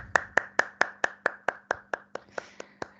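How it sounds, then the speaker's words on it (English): A single pair of hands claps about thirteen times in a steady, even rhythm, close and dry, as applause for group 3 after an English class meeting presentation, no talk over it. "let's give applause to group 3"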